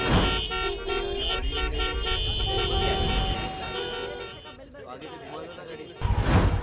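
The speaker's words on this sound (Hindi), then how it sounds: "क्या यार, इतना ट्रैफिक क्यों है?" Congested street traffic rumbles steadily while car horns toot repeatedly, some long and some short, and a sharp blast lands near the end. Voices talk under the noise.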